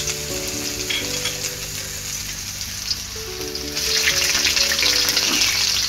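Ginger and green chilies sizzle and crackle in hot oil with browning urad dal for upma, a steady frying hiss with stirring and a faint background hum, growing louder toward the end as fresh pieces hit the pan.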